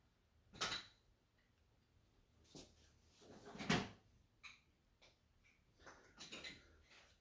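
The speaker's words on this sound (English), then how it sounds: "I'm going to go grab a couple out of my drawer." A few sharp wooden knocks and slides of a drawer being pulled open and rummaged for paint brushes in a furniture-painting workshop, spaced out and fairly quiet, with no voices.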